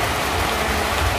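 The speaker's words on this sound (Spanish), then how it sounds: "Está lloviendo" Rain falling steadily, a dense, loud, continuous hiss of drops on surfaces with no pauses and no talking.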